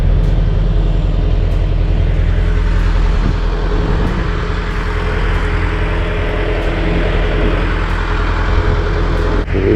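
A ferry's engine runs with a steady, loud, low rumble that holds unbroken throughout, with no voices over it.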